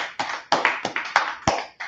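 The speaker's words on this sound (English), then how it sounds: "Let's clap it up." An audience claps during a Tuesday Brotherhood and Sisterhood class gathering: sharp, close claps in a loose, uneven rhythm, about seven bursts over two seconds, with no talking.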